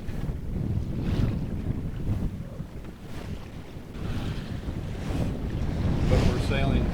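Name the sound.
Compac 23 sailboat sailing in wind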